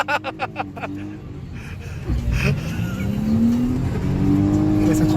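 A car engine revving as it drives through a U-turn, rising from a few short throttle blips into a sustained climbing rev up close, with a voice briefly heard near the start.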